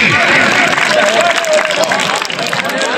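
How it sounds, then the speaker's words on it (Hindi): An audience at a kabaddi match in Chiniot, Bhowana claps and cheers for the players. The applause is loud and dense, with crowd noise and a commentator talking over it. "शाबाश दोनों खिलाड़ियों वास्ते भाई जोरदार तालियां दी।"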